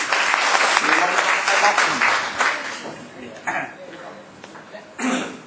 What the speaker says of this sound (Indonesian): Boleh kita tepuk tangan untuk segala Bapak dan Ibu ini.